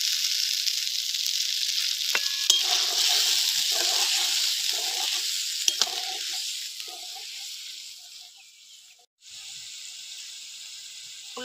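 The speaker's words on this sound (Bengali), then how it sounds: "ভালো করে মশলাটা কষে নেব।" A spice masala with cumin paste frying and being stirred in a pan for vegetarian begun bahar, with a loud, steady close sizzle and a few light spoon scrapes, no talk.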